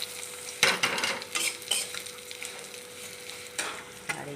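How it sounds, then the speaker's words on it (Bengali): Vermicelli and carrot, with cashews and raisins, fry in ghee in a pan, giving a steady close sizzle broken by several sharp scraping stirs of a utensil against the pan. "তারপর সেও গাজরটা দিয়ে দিলাম ভাজার জন্য।"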